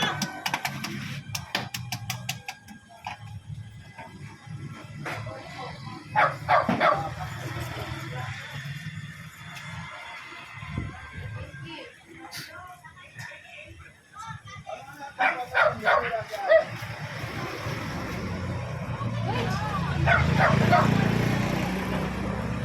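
An emaciated, skin-and-bones stray dog caught by dog catchers and pinned in a motorcycle sidecar, biting at the rope, gives bursts of yelping barks and whimpers, loud and close, amid people talking.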